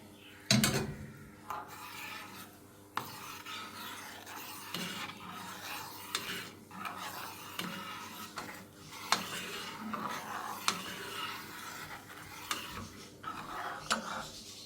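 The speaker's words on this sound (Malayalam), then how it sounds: "ഇനി പാത്രത്തേക്ക് സെർവ് ചെയ്യാം" Ada payasam is ladled into a serving bowl, with a series of scraping, rubbing strokes of a ladle against a metal pot at a moderate, irregular rhythm, close and fairly quiet.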